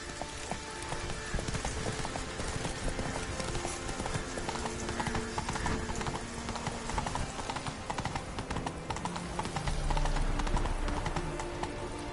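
Horse hooves clip-clop at a galloping pace through Novigrad-style city streets in The Witcher III, a steady rapid rhythm under game music and ambience, with a brief whinny and some background voices.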